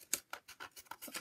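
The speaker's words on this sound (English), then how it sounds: "Now I'm going to take my scissors and I'm just going to snip" Scissors snip through paper in a quick run of about six short, crisp cuts, close and quiet, with no talking.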